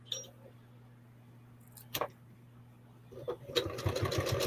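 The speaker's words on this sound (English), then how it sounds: "So I'm going to be sewing up and down all these things just to give it some definition." A sewing machine stitches up and down across a quilted art piece made to look like roof tiles. A steady low hum runs throughout, with a brief burst near the middle, then a rapid, close stitching rattle building toward the end.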